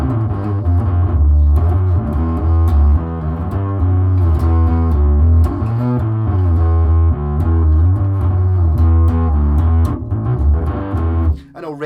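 A thick, heavily distorted bass riff from a bass guitar through an MXR bass distortion pedal plays steadily and loud, gritty overdriven low notes filling the whole stretch with no voices.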